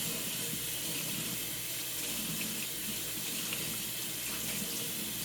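A kitchen tap runs steadily while makeup brushes and a sponge are rinsed under it, a constant close hiss of flowing water with soft splashing and no voices.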